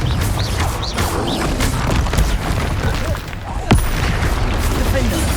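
Confringo spell blasts crack and boom through a Hogwarts Legacy duel, with a sharp hit near the end, layered over constant battle noise and a voice calling out spells.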